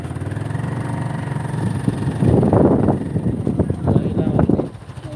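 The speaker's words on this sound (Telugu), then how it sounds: "నేను బైక్ ఎక్కుతున్నాను" A motorbike engine idles at first, then revs up loudly close by as the ride starts, with pulsing bursts of throttle.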